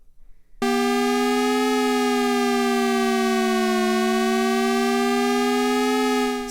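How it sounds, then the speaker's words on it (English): Synthesizer oscillator modulated by a low-frequency oscillator: a steady buzzy tone with rich harmonics whose pitch sways slowly up and down, starting abruptly after brief quiet and holding loud and alone. "you can definitely hear the oscillator being modulated by this lower frequency"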